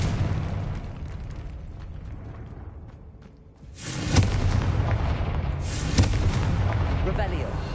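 Confringo fire spell cast in the video game Hogwarts Legacy, a loud explosive blast that erupts after a quieter stretch, followed by a second burst and sustained roaring crackle.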